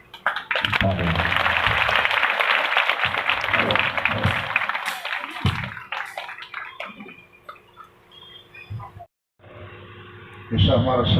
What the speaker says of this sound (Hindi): तालियां बजाते हुए